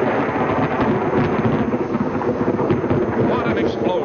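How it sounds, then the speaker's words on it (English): An ammonium nitrate blast at a copper mine in Utah: a deep, sustained rumbling roar like rolling thunder, loud and continuous, heard on an old muffled film soundtrack. "What an explosion! Thunder over Utah!"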